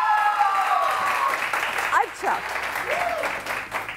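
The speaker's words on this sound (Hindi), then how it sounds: "तो इसलिए पहले मेरे लिए तालियां बजनी चाहिए" A studio audience on the morning talk show Subah Saverey Samaa Kay Saath applauds in a steady wash, while a host keeps talking over the clapping.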